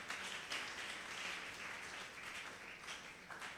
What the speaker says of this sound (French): Acclamons le Seigneur de gloire.